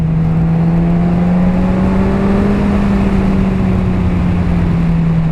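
A 2017 Kawasaki Z1000 motorcycle's engine holds a steady, loud drone on a test ride, its pitch rising slightly and easing back under constant wind rush, with no voices.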